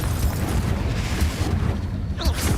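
A Confringo fire blast spell in the Hogwarts Legacy video game erupts in booming, rumbling bursts amid continuous combat noise, with a sharper crackling flare near the end.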